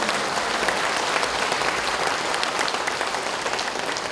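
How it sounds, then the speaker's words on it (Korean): Steady, dense applause from a large audience at a Korean Confucian leaders' convention, the clapping even and sustained throughout with no talking over it. "다 같이 웃으면서요. 박수 해보세요."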